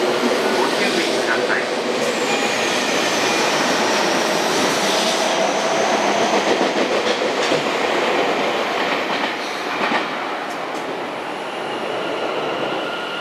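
A Tobu 50000 series electric train running through Yanasegawa station, a loud close roar of rolling wheels with rhythmic rail clatter and a brief squeal, the noise easing slightly near the end.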